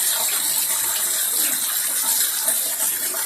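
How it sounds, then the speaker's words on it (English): Rainwater gushes steadily from the bottom of a rain barrel overflow pipe during record rainfall, a continuous close, bright rushing hiss with no talk. "look at that water shooting out of that bottom of that pipe right there"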